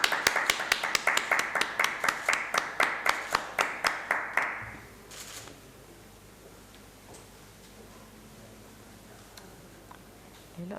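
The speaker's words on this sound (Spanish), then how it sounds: "vamos a aplaudir, ¿no?" A small audience at a Jerez civic ceremony gives a short burst of clapping, sparse distinct claps in a quick rhythm for about four seconds before fading to quiet room tone.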